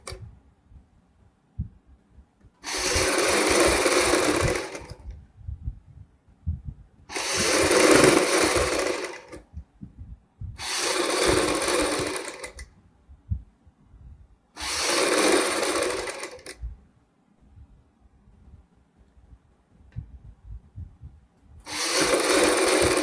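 Sewing machine stitching piping onto a kurti, running in five steady bursts of a few seconds each separated by pauses, loud and close with no talking.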